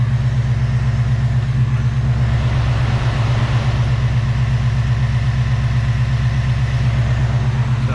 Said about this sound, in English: I wanted to try it with the engine actually running